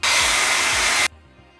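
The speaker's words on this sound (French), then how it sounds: "je vais passer un petit coup de sèche-cheveux pour vite sécher" A hair dryer blasts steadily over a drying anthotype print made with clover chlorophyll, a loud broadband whoosh that cuts off abruptly after about a second, leaving a quiet room.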